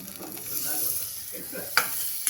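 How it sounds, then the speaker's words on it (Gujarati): Ragda, a potato and pea curry, sizzles steadily as it heats in a pan, a soft continuous crackle with a couple of sharper pops near the end; no talk. "તડતડિયા બોલવા માંડ્યા એટલે થઈ ગયો રગડો ગરમ"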